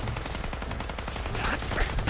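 Rapid gunfire from a firearm in the video game Fallout 4, dense and continuous across the whole moment, loud and steady with no pauses between shots.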